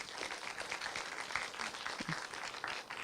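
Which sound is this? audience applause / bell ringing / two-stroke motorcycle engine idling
audience applause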